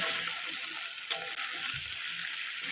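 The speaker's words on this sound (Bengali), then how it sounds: "আলুগুলোকে খুব সুন্দর করে ভেজে নেব।" Potatoes fry in a pan with a continuous close sizzle and a faint high-pitched whine. One brief knock sounds partway through.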